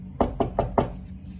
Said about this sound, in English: One day, it was a stormy, cold, rainy night when they hear a knock at the gate.